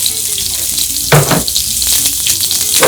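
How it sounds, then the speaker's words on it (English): Loud, steady sizzle of a 1.5-inch-thick steak searing in a hot pan with olive oil, with a sharp crackling burst early on and spitting pops throughout; nobody speaks. "I always love the sound of a sizzle with the steak hits the pan."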